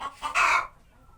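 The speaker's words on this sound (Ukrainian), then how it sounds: "Ось така чубата курочка." A crested hen in a backyard poultry yard gives a short, loud cluck-like call, a couple of quick bursts rising into a brief squawk, close by and alone.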